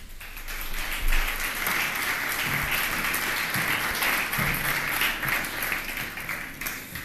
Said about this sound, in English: the applause could be a bit louder, please. A great applause